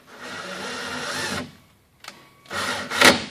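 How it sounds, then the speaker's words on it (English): A drill drives a self-tapping screw to attach a grounding lug to a solar panel, in two close, whirring bursts separated by a short pause, with a quick click between them. "a self-tapping screw, and we simply drive the screw in"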